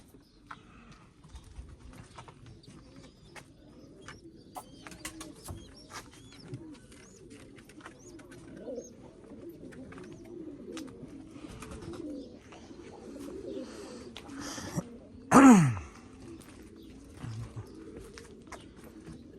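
Pigeons coo softly and continuously at close range in a loft where young birds are kept, with a brief louder flutter or knock near the end and faint background movement.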